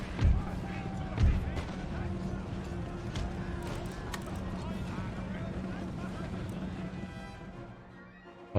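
Artillery in the Empire: Total War Prussia campaign booms twice early on, heavy low thuds over a dense, continuous battlefield din, with voices talking throughout.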